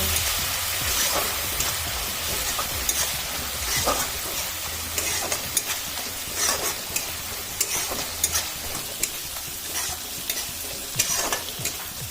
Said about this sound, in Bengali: নারকেলের দুধ দিচ্ছি ভালো করে কষিয়ে নেব